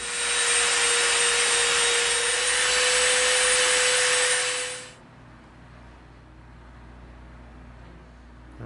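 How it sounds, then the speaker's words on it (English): A Dremel rotary tool cuts through EVA foam, a steady high-pitched whine with a bright tone that runs loud for about five seconds, then cuts off abruptly and leaves a low quiet hum. "Now what we're going to do is we're going to Dremel around here."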